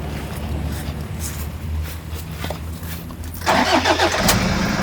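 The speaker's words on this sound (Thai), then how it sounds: "สตาร์ทเครื่องฟังเสียงดูนะครับ" A 2004 Toyota Hilux Vigo 3.0G pickup engine cranks for a few seconds, then catches and rumbles into a loud, steady idle.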